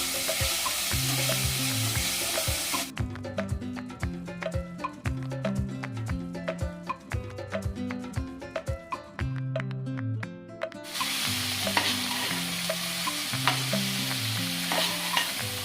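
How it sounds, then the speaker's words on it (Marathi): Tomatoes and fresh coriander sizzling in a hot tempering of oil for a Maharashtrian mung dal dosa chutney: loud close frying hiss, repeated scraping stirs of a spatula against the pan, and a quieter stretch of stirring midway, with no voices. "थोडी कोथिंबीर आपण फोडणीत पण टाकू"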